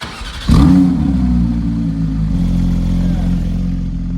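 A Ferrari 296 engine, rebuilt after a wreck, starts and settles into a steady, loud idle with a faint rapid ticking underneath, close by, no talking.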